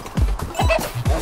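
A chicken in the video game Tokyo Jungle gives a quick run of loud, close clucks, three or four sharp squawking calls in rapid succession with no other sound.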